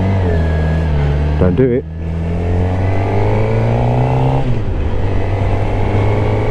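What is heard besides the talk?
2016 Suzuki GSX-R750 motorcycle engine accelerating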